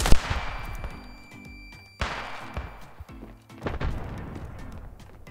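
A few sharp, loud gunshots in a Standoff 2 match, spaced out with ringing tails and some echoing thumps between them.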